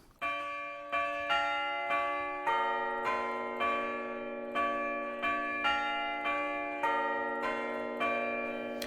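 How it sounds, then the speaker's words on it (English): Church bells at St. Paul's Church, Hamilton, struck by an Ellacombe chiming clavier. Clear, ringing tones sound one after another at a regular pace, each followed by a long, slowly fading resonance. No one speaks. "The sound of a chime was a feeble substitute for the rich sound of a swinging bell"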